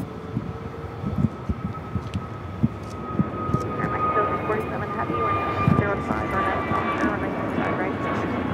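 An American Airlines jet in Flagship Valor livery, inbound from Dallas Fort Worth, roars steadily on approach at a busy airport, a sustained engine drone with a whining tone, with intermittent clicks and thumps nearby.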